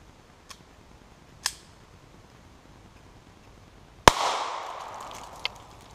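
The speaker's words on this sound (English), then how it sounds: "I'm gonna be shooting it with that 22 long rifles." Shots from a .22 Long Rifle fired at a Kevlar panel, heard as a couple of faint distant cracks followed by one sharp loud report with a lingering echo and a small later tick, no talk.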